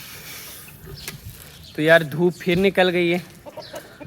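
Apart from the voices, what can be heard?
hens clucking on a poultry farm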